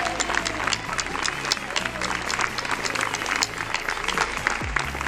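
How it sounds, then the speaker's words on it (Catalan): Audience applause at a school graduation ceremony for a vocational care course, a steady dense wash of clapping filling the whole stretch with some crowd noise underneath. "Des d'aquí demanem un fort aplaudiment per a totes elles"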